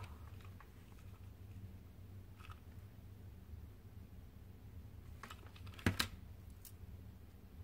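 Scissors cut ribbon for a handmade card: a few quiet, sharp snips cluster near the end over a faint background.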